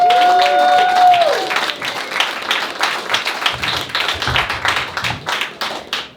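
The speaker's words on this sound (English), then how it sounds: "please give a nice warm round of applause for the very funny Chris Sear." Audience applause at a comedy festival set, steady dense clapping from a crowd after a tonal musical sting fades, continuing throughout at moderate loudness.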